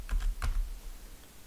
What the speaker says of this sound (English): now we press 3 times M on the keyboard to have a tangential circle as next